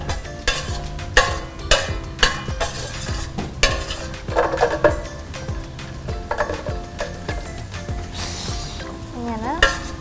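Frying in ghee for kuttipayasam, a Vishu festival payasam: a continuous close sizzle with rhythmic stirring scrapes and metallic clinks of a spoon on the pan, steady throughout with no talking.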